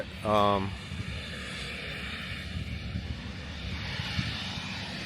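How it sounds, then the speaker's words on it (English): Airplane at a small Arkansas airport, heard as a steady, faint engine drone under outdoor ambience after a brief louder tonal burst at the start. "I'm not sure if that plane just landed or if it's gonna be taking off"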